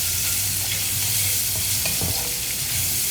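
Onions sautéing in oil in a pan for tiffin sambar, a dense continuous sizzle with the rustle of stirring throughout, loud and close, no voices.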